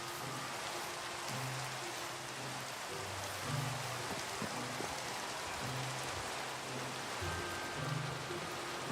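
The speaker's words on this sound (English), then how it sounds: "This rain's kind of loud." Steady rain in a Minecraft-style survival world pours down loudly and continuously, a dense hiss filling the whole stretch with soft low tones of game ambience underneath and no voices.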